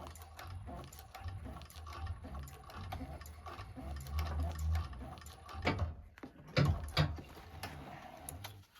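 A sewing machine stitches and back-stitches a bag in short, uneven bursts of mechanical whirring and clicking, close and fairly quiet, with brief pauses between runs.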